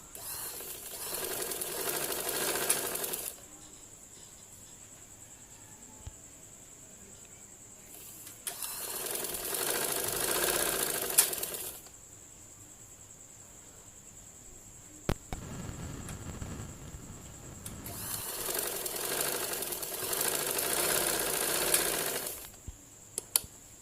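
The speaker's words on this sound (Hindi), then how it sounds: "तो चलिए सिलाई स्टार्ट करते हैं।" A sewing machine stitching a trouser runs in three long, steady whirring bursts of several seconds each, close by, with quiet pauses and small clicks between runs.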